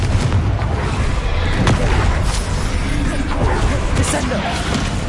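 Loud, dense blasts of a Confringo fire spell in Hogwarts Legacy, crackling explosive bursts layered over continuous rumbling combat noise, close and steady throughout with a voice calling out over the battle.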